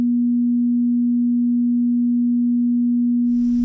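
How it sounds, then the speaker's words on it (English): A steady pure 241 Hz sine tone holds at constant pitch and level for several seconds, alone and clean, before a short burst of broadband noise at the very end. "Next, the 241 Hz tone."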